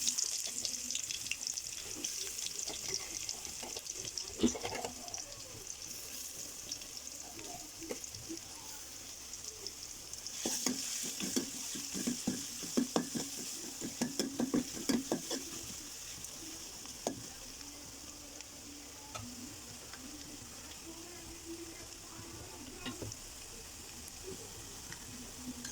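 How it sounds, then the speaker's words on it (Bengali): Chopped garlic frying in oil with bay leaf and dried chilli, a continuous gentle sizzle with scattered spatula taps and scrapes, busier clusters of stirring in the middle, heard up close with no talk. "এখন রসুন কুচি দিয়ে দিয়েছি।"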